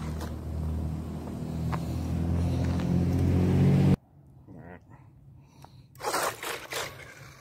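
A Redcat Racing Piranha RC car whines loudly and steadily as it drives, then cuts off abruptly, leaving quieter scrapes and a few brief rustling bursts.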